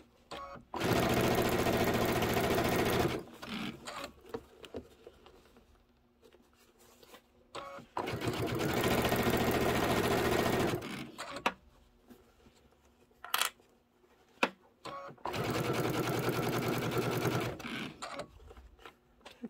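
A sewing machine stitches quilt fabric in three sustained runs of steady, rapid whirring, each several seconds long, separated by quieter pauses with small clicks and handling noises.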